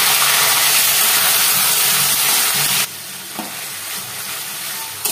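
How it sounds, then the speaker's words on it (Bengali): Ground ginger and green chili paste hits hot oil with a loud, dense, close sizzle that suddenly drops to a quieter steady frying hiss, with one brief stir. "আদাটাকে ভালো করে ভেজে নিতে হবে, লঙ্কার আদাটাকে"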